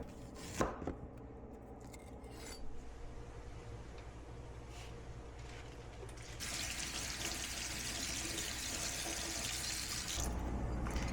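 Celery sticks washed under a running kitchen tap, with a few knocks of stalks against the sink, then steady close water splashing that grows stronger and continues to the end, with no talking.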